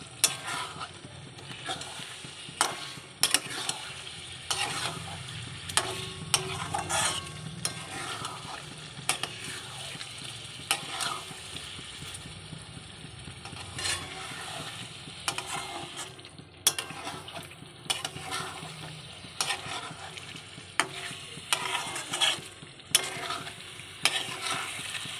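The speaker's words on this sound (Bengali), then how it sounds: "এইভাবে ভালো করে কষতে হবে।" Mutton kosha stir-fried in a pan without onion or garlic, steady sizzling with repeated scraping and clacking of a spoon against the pan, close and moderately quiet.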